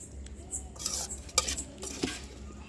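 Chutney ingredients are pounded finely in a stone mortar, with sharp knocks and scraping grinds over a low rumbling background.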